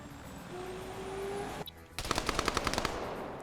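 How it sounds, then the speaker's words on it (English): A firefight in a multiplayer military video game: a rapid burst of about a dozen automatic gunshots rings out close and loud after a low engine drone and a brief lull. "Now you're just having this firefight"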